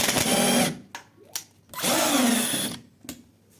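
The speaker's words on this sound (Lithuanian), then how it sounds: "Jisai susuka ir išsuka varžtą." A cheap Temu power screwdriver whirs in two sustained bursts, driving a screw in and then back out, with short clicks and knocks between runs, close and clear.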